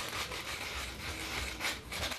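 Close, steady rasping of sandpaper on a carved pine wood piece for a handmade miniature horse carriage, continuous and alone without any talk.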